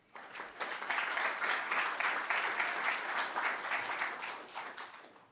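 An audience at an aircraft-design talk gives a speaker steady, sustained applause that swells quickly and then tapers off after about five seconds.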